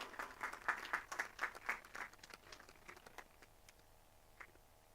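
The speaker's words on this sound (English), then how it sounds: "let us give a big round of applause" A small audience at a Republic Day ceremony claps for a group of students, a few seconds of distinct, quick handclaps that thin out and fade to scattered taps and quiet, fairly faint overall.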